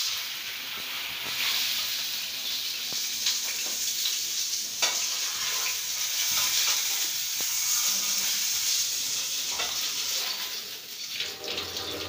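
Fish frying in hot oil gives a continuous bright sizzle and hiss, fairly even in loudness, with occasional light clicks of stirring or turning pieces.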